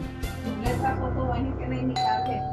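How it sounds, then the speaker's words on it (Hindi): A doorbell chimes indoors with a couple of bright ringing tones near the end, while people speak in the room. "जाके जल्दी से दरवाजा खोल दे, नहीं तो जला देगी घंटी।"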